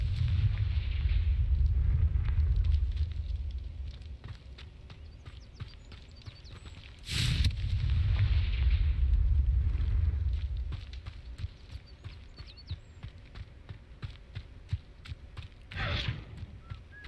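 Confringo blasting spell in a video game: a heavy rumbling explosion with crackling fire, two loud blasts separated by quieter stretches of faint clicking and a brief bright whoosh, fading to lower rumble.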